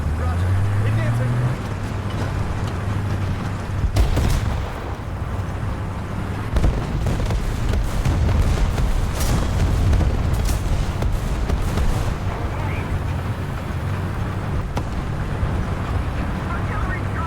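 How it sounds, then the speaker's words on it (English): Artillery strike explosions land in the tank game War Thunder as a string of heavy booms and sharp cracks over a low engine rumble, with a voice talking throughout. "Artillery strike incoming. We've been hit."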